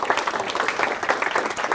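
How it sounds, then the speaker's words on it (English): An audience at a talk claps in a brief, moderately loud burst of overlapping hand claps, a patter of many hands with no voices on top. "thank you a lot, Igor, for the clap."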